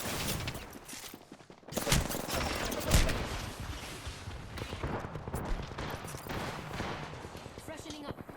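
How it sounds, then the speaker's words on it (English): Gunfire in the video game Apex Legends striking the player: bursts of rapid automatic shots and sharp impacts crackle repeatedly over a busy game soundscape, at moderate level with sudden loud spikes, while a voice talks now and then. "I proceeded to get shot a bunch."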